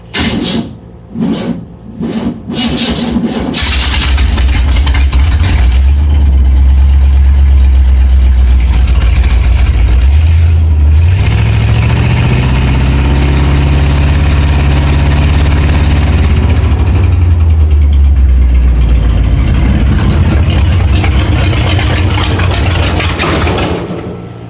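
A 1937 Ford rat rod truck with straight pipes and no mufflers cranks a few times, fires up and settles into a loud, close, rumbling idle with a brief rise in revs midway, running steadily with no talk.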